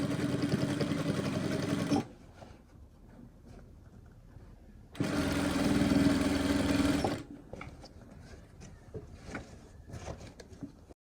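Sewing machine stitching fabric for cargo shorts in two bursts of steady motor whirring, each lasting about two seconds, separated by quiet pauses filled with soft handling and rustling sounds.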